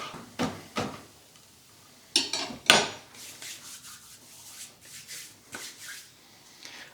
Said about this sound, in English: Just chop it up finely.